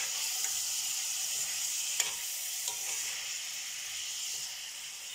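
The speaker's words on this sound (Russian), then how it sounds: "Сейчас эта цветная капуста пожарю." Cauliflower fries in a pan with a constant bright sizzle and hiss, close and steady, with a couple of faint clinks or stirring taps breaking through.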